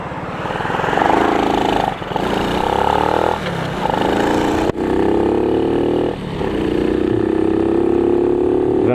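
A Honda C90 motorcycle with a standard carburettor and standard exhaust buzzes along while being ridden, its small engine droning loudly and shifting pitch as it revs, with brief dips between gears.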